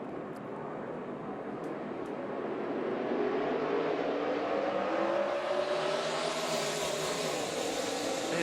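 A pack of NASCAR race cars accelerate on a restart at the 2017 Coca-Cola 600, engines swelling from a steady drone to a loud, rising roar as they charge into turn one.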